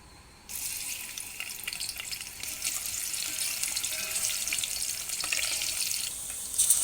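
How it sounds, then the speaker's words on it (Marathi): Coconut masala paste frying in an onion and curry leaf tempering for a whole lentil curry, a steady hissing sizzle that starts suddenly and runs on evenly, close and without voices. "आपण शिजेपर्यंत त्याला व्यवस्थित परतून घेऊया तेल सुटेपर्यंत"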